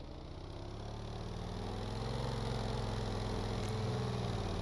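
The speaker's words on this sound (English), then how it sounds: "So let's systems, start both engines." Two boat engines start and run together, making a continuous low, rumbling drone that builds slightly in loudness and then holds steady and close throughout, with no talk over it.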